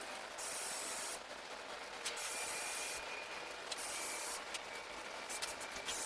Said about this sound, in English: After I spray the adhesive